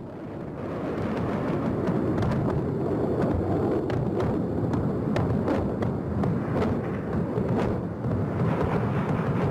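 Bombing in Baghdad produces heavy, rumbling explosions over a dense, continuous roar, with sharper blasts cracking through at irregular intervals in the distance.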